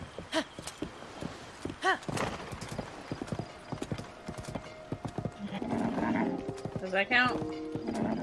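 Hooves clip-clop steadily from a horse in the video game Zelda: Tears of the Kingdom, with a neigh partway through and a player's voice talking over it.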